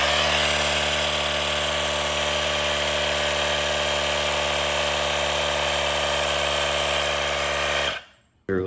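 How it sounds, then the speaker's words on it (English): A portable air compressor hums loud and steady with a strong motor drone while it pumps up a flat bike tire to 18 PSI, then cuts off abruptly near the end. "It literally took like 10 seconds to air up a bike tire from completely flat."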